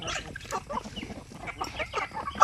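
Native chickens cluck in a busy run of short, overlapping calls, fairly close, with a sharper squawk near the end.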